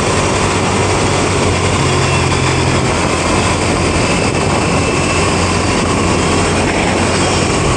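A 2023 Ducati Diavel V4 motorcycle pulls hard at speed on an interstate highway, a loud, steady roar of engine and wind rush that holds without a break and carries no talk.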